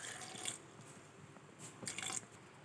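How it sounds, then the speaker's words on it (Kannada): A little water is poured into a homemade drink, quiet splashing trickles in two short bursts separated by near silence. "ಇದಕ್ಕೊಂದು ಸ್ವಲ್ಪ ನಾನು ನೀರು ಹಾಕತ್ತೀನಿ."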